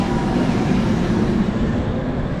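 A continuous low rumble and rattling roar of an old-style tram rolling past nearby in a small Latvian town, steady and fairly loud with no speech.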